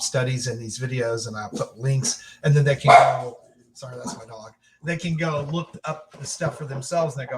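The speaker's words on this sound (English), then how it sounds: "Sorry, that's my dog." A pet dog barks briefly in the middle of a woman's speech, a short sharp burst over her ongoing talking.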